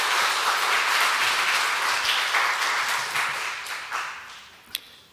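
A church congregation applauds during a sermon service. The clapping is dense and steady, then thins and fades near the end, with a single sharp clap just before it stops.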